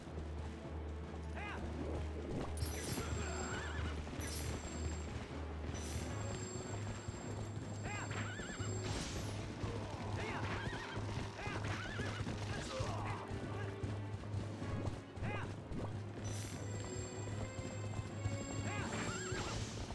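In the video game The Legend of Zelda: Twilight Princess, repeated horse whinnies ring out over steady clip-clopping hooves and a low continuous hum, with voices talking intermittently throughout.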